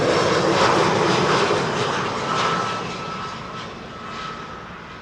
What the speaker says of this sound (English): Air Arabia Morocco up next, arriving from Nador